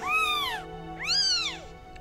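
A three-day-old Tonkinese kitten with a badly deformed leg meows twice during physiotherapy, each cry rising then falling, close and fairly loud over a faint steady background hum.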